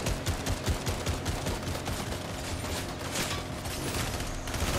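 Gunfire in a shooter video game rattles off in rapid, repeated bursts at moderate loudness, with no talking over it.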